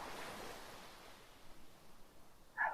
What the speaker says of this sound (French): laisse-toi porter au doux son des vagues